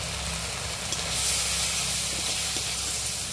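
Water poured into a hot pan of chili, cumin and coriander powders gives a steady, close sizzling hiss that swells slightly midway and carries on without a break.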